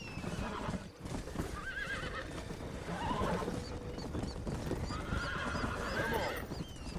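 Horse neighing and hooves in the video game Red Dead Redemption, a loud whinny with clip-clopping hooves throughout, set against ambient game sounds and distant cries.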